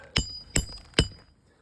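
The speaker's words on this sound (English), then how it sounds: "finish it off, and hammer it flush." Three sharp hammer strikes drive a nail flush into a roof shingle at an even pace, each a crisp, ringing knock.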